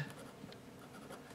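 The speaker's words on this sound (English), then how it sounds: "So here I'm going to write" An ultra fine point Sharpie pen writes on a surface, giving a faint, close scratchy rustle of short strokes in a quiet room.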